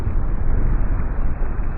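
A det cord explosion heard as a sustained, loud roaring rumble of blast noise, heavy and muffled at the low end with no distinct separate bangs.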